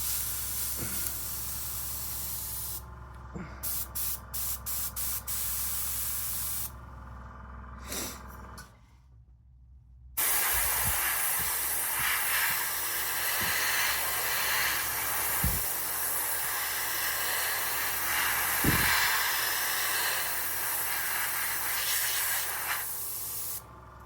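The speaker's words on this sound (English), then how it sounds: "it's just a fantastic airbrush" An airbrush sprays MRP Aqua paint in a close, steady hiss, first in short bursts, then after a pause in a louder continuous spray, with occasional soft clicks and no talk.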